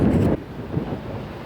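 A strong headwind sweeps across a golf course, buffeting the microphone in a loud, steady roar that drops slightly after the first moment and keeps blowing with no voices.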